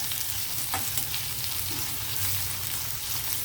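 Onions fry in a pan for meal maker biryani, making a loud, even, continuous sizzle heard up close with no speech over it.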